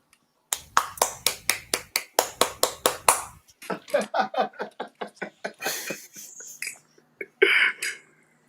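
A steady run of crisp hand claps, sharp and evenly spaced at first, then looser and quicker, followed by laughter and chatter from a small group.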